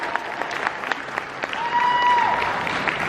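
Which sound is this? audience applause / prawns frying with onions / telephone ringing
audience applause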